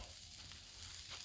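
Beef patties sizzle steadily on a hot flat griddle for a breakfast sandwich, a close, continuous frying hiss with no voices.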